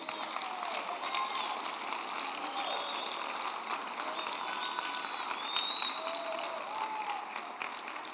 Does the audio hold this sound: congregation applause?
yes